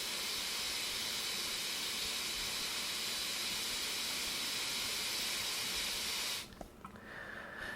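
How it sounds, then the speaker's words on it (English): A portable hookah is purged through its purge valve, giving a loud, steady rush of hissing air that cuts off abruptly near the end and leaves a faint quiet tail. "The purge valve is practically useless, so we're going to purge and see what this does."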